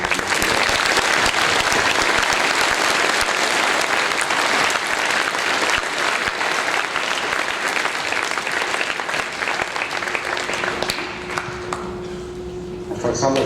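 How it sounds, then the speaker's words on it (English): Sustained applause from a school Veterans Day assembly crowd, dense and loud for most of the stretch, then thinning into a few scattered claps near the end. "let's give a round of applause"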